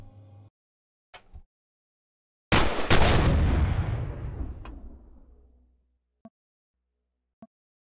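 Heavy turret gunfire in the space survival game Empyrion: Galactic Survival, set in an asteroid field, with a few sharp shots followed by one loud booming blast that rolls away over several seconds, then two faint distant pops.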